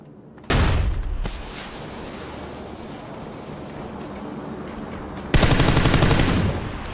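A VSS rifle firing in PUBG: a sharp onset leads into steady, noisy suppressed fire that continues for several seconds, then a louder, harsher burst near the end.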